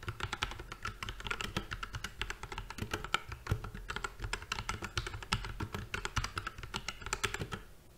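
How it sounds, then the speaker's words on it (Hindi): Steady typing on a Portronics Hydra 10 wireless mechanical keyboard with red switches, close and fairly quiet, a rapid irregular stream of key clicks and thocks with no talking. "typing and sound test"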